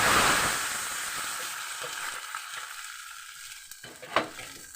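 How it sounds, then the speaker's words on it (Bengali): Water hits a sizzling pan holding a fish head, bursting into a loud hiss that fades steadily into a softer bubbling simmer, ending with a faint clink of a utensil. "এবার দেখো আমি জল দিয়ে দিলাম"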